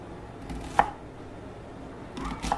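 Knife chopping through the ends of vegetables on a board while preparing a vegan quiche, two sharp close cuts spaced a couple of seconds apart in a quiet kitchen.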